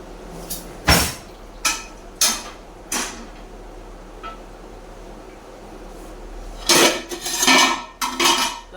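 A dosa griddle pan clanks and scrapes against dishes in a sink, with several sharp knocks early on and a busier flurry of clatter near the end.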